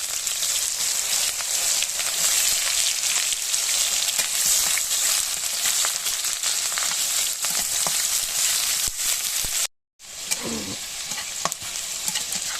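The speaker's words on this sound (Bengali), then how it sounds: "পেঁয়াজটা কষানো হয়ে গেছে" Onion frying with green chillies in oil in a pan, cooked for beef noodles: a loud, continuous sizzle with stirring scrapes throughout, cut by a brief silent gap near the end.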